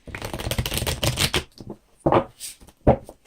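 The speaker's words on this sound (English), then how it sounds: "every time I keep shuffling these cards" Tarot cards are shuffled in a quick riffling burst, followed by a few soft separate taps and slides of cards, close up with no talking.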